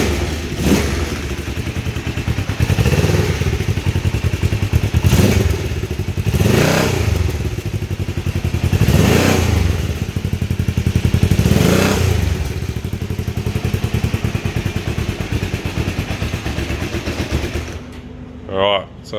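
A Kawasaki EN454 motorcycle engine runs with aftermarket slash-cut mufflers, a steady rumbling idle with several swelling revs, close and fairly loud, ending abruptly near the close.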